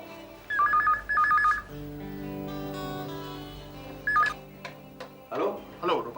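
An electronic telephone ring in a home setting, bursts of warbling trill that repeat several times, fairly close, with someone speaking and music playing between the rings.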